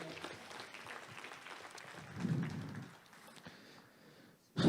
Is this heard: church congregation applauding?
yes